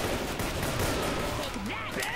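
Gunfire in the Left 4 Dead 2 video game crackles in a dense, loud continuous burst with chaotic game noise and voices mixed in.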